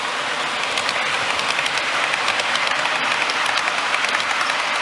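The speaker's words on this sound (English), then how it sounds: "Wait for this train to go past." A passing train on a model railway layout roars past close by as a steady, dense rushing rumble that stays loud throughout, with no talk over it.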